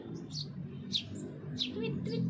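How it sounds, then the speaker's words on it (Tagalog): Small birds chirping nearby, several short bright tweets spaced about half a second apart, over a faint low background hum. "Nakakatuwa, daming mga ipon dito dumadami."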